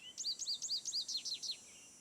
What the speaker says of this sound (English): goldfinch.